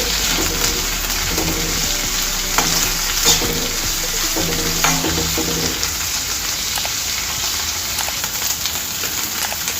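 Curry leaves and chillies frying in oil in a pan for jowar upma, a loud, dense, continuous sizzle and crackle close by, with faint stirring touches and a low hum easing off partway through.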